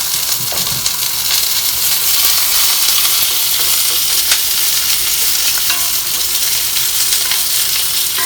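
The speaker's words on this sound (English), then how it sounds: "make sure that the green beans are all flat on a layer on the bottom of the pan" Green beans sizzle steadily in a hot frying pan during a Sichuan sauté cooked aboard a boat, a continuous bright crackle with occasional light clinks of stirring, close and fairly loud, with no talking.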